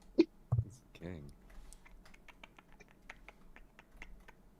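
Hard, rapid key clicks from a computer keyboard during a Minecraft session, a dense run of sharp taps across the clip under a nearby voice and a couple of louder thumps at the start.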